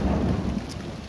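Thunder rumbles low and heavy with steady rain falling during a storm outdoors, close and continuous, loud at first then easing slightly.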